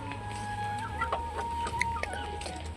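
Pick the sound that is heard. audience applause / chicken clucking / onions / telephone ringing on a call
chicken clucking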